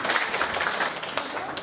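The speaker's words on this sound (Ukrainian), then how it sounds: "Ще раз оплески даруємо." Wedding guests applaud together, a dense, steady patter of many hands clapping close by with voices mixed faintly underneath.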